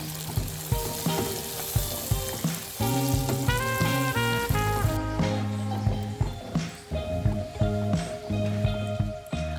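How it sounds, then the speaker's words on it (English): Hot amber caramel sizzling and bubbling as butter is stirred in off the heat, a busy frying hiss with scraping stirs, heard under music. "pull it off the heat and stir in butter"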